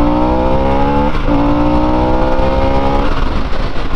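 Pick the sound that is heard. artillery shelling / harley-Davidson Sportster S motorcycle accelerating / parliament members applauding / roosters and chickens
harley-Davidson Sportster S motorcycle accelerating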